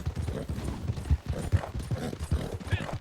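Steady clip-clop of a Missouri Foxtrotter's hooves in Red Dead Redemption 2 during a winter endurance horse race, a close, continuous rhythmic gait over a constant ambient bed.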